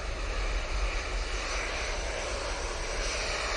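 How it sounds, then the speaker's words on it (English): An Emirates Airbus A350-900 jet airliner at Manchester Airport, heard as a steady, broad engine roar that holds at a constant level throughout, with no voices. "The beautiful Emirates A350-900."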